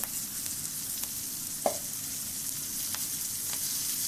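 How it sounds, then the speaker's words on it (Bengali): Onions and chilies fry in a pan with a continuous soft sizzle. A few sharp clicks and taps of stirring break through now and then, and no one speaks. "পেঁয়াজগুলো ভালো করে ভেজে নেবো মরিচও দিয়েছি"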